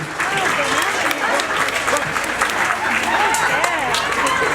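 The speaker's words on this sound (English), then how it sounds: "Round of applause for PC Jones and Police dog Ebony." Outdoor crowd applause at a police open day dog-handling demonstration, sustained clapping at a steady level with excited voices and cheering mixed through it.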